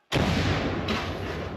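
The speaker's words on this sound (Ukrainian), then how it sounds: "Гармата!" A single loud artillery cannon blast erupts suddenly, followed by a long rumbling roll and echo that keeps going to the end.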